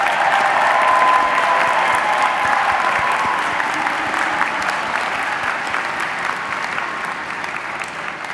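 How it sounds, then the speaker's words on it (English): Sustained applause from a large audience at a College of Health Sciences commencement for the graduating class of 2026, loud and even, tapering slightly over about eight seconds. "Let's give another round of applause for the class of 2026."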